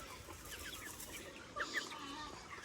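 Native country chickens cluck softly while pecking at drumstick leaves scattered on the ground, several birds close by in a low, continuous murmur with occasional sharper clucks and a brief flutter of wings.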